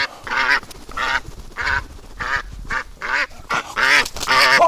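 A duck quacks repeatedly at close range in a winter setting, around nine loud, evenly spaced nasal calls in quick succession with no talking over them.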